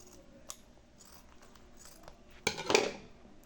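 Scissors trim soft leather for a handmade insole in a quiet room, giving a few faint snips and then a louder, close burst of cutting and rustling near the end.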